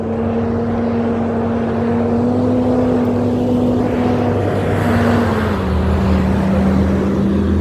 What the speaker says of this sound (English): Big ass truck.